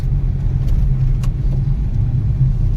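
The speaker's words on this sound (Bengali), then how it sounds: "এখন বন্ধুরা 40-এই গাড়ি চলছে।" A car travels along a road at about 40 on a road trip toward Jaisalmer, giving a steady, loud, low rumble of engine and tyres heard from inside the cabin, with no talk.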